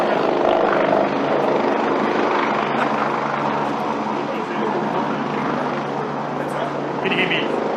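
Rotor noise from a helicopter hovering above an outdoor New South Wales COVID-19 press briefing forms a constant, heavy roar that nearly swamps the voices of people speaking under it.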